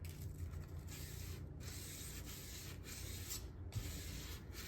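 Sandpaper rubbing across the steel blade of a handmade cleaver, a steady, close, quiet scratchy texture with faint shifts in stroke and no talking.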